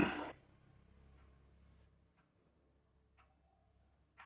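Faint pen scratching on paper while chemistry notes are written out by hand, soft and continuous for a couple of seconds, close and quiet with a few small taps after.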